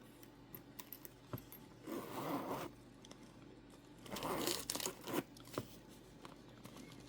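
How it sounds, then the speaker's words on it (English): Zipper on a Portland Leather Goods leather bag being pulled in two bursts of scratchy rasping, each lasting under a second, with quiet handling rustles and small clicks between, close and fairly soft. "Really good zipper."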